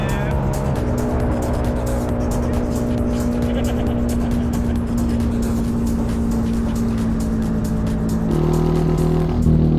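Turbocharged single-rotor Mazda Miata running on a dyno, a loud, steady buzzing engine drone with a sustained tonal whine that jumps in pitch near the end, with voices underneath.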